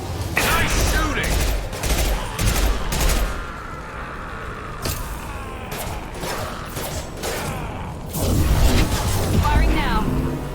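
Dense gunfire and clattering weapon bursts in a Mass Effect battle on Insanity difficulty, loud and continuous with a brief lull in the middle, under speaking voices.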